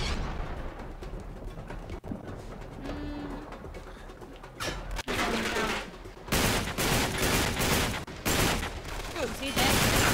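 Gunfire from the Uncharted 3: Drake's Deception video game comes as sharp shots and bursts over a busy game soundscape, growing denser and louder in the second half.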